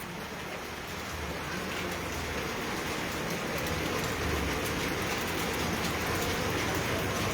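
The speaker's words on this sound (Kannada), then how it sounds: "ಮಳೆ ಬರ್ತದ." Steady heavy rain falling outdoors on a waterlogged street, a dense continuous hiss of drops on surfaces that holds at a constant level throughout, with no voices.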